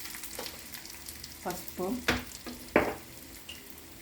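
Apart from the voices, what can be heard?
tempering for dal: garlic, chilies, mustard seeds, cumin frying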